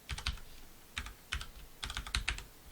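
Quick bursts of keystrokes on a computer keyboard, close and quiet, clustered in short irregular groups of clicks with brief pauses between them, alone with no voice.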